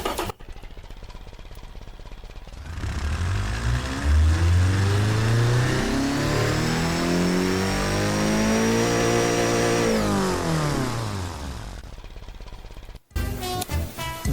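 A car engine in the BeamNG.drive racing game climbs in a long loud rev during a pull test, pitch rising steadily through the gears to a high whine, then cutting off sharply near the end.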